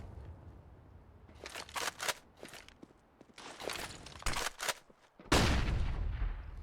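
Bursts of gunfire crack in sharp clusters in a Counter-Strike match on Nuke, with a hard grenade-like blast near the end, over faint footsteps and background game noise.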